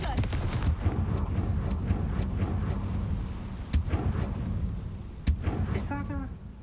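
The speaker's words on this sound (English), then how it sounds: "Confringo." Confringo spell blasts go off in a Harry Potter video game: several sharp, punchy bursts, two especially loud, cracking over a busy in-game background.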